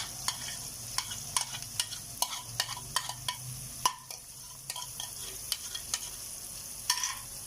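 Minced meat keema frying in a pan for stuffed karela, a soft continuous sizzle punctuated by regular clicks and scrapes of a spoon stirring against the metal.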